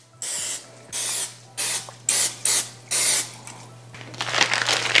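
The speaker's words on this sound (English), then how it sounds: "we're gonna go ahead and spray this with some vegetable oil" Vegetable oil cooking spray hisses into a baking pan in six short, sharp bursts at a steady pace, with a faint hum underneath and a rougher clatter at the end.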